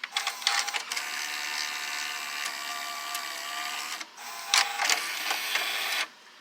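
A Toshiba V-S44C Betamax VCR runs its mechanism to eject a tape, with a steady whirring motor drone broken by clicks and clunks near the end before it stops, heard close with no talking.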